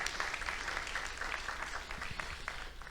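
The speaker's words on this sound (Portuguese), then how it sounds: "uma salva de palmas para eles" Church audience applauds volunteers with dense, continuous clapping heard at a moderate distance, a steady patter without speech.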